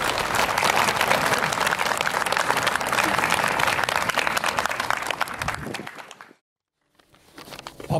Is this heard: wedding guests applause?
yes